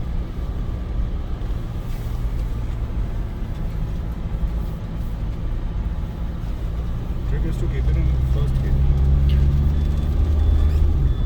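A Gurkha's engine drones low and steady as it climbs a steep mountain road in first gear, rising louder toward the end, with a voice talking over it.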